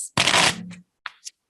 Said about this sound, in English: it's just like very satisfying to shuffle a deck of cards